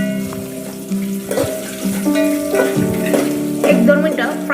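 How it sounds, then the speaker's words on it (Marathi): Pea paratha filling with ginger frying in a pan, a steady loud sizzle under stirring, with tonal music or humming running over it. "याकरता सर्व जिन्नस फ्राय करून घ्यायचे. आलंही घातलेलं आहे. सर्व जिन्नस परत एकदा फ्राय करून घ्यायचं."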